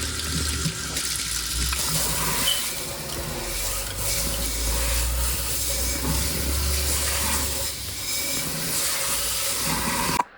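Steady running tap water splashing continuously for about ten seconds, close and fairly loud, with no voices.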